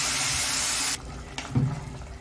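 Boiling water pours from a kettle into a cooking pot of meat with cumin and rosemary, a brief steady rush that stops abruptly and is followed by quiet sizzling and bubbling.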